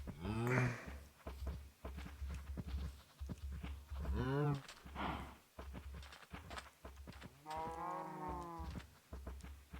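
Cows moo in the Minecraft video game, several long drawn-out lowing calls spaced through the clip, with footsteps and scattered game sounds between them.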